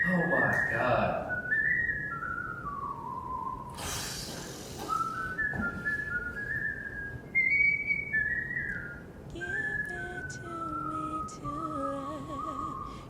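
A person whistles a wavering, sliding melody up close for several seconds, with a brief noisy burst partway through and faint background sounds around the tune.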